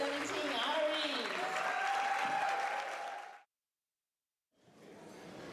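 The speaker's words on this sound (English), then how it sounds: "Let's give another round of applause for the 2017 honorees." A crowd at an evening gala honoring award recipients claps loudly and steadily with some cheering, then the sound cuts to silence before applause resumes faintly.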